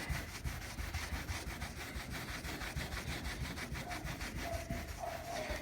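A terry cloth towel is rubbed back and forth over old, peeling car clear coat, making a steady, rhythmic scrubbing and rasping sound. The strokes are close, quiet and quick, with no voices.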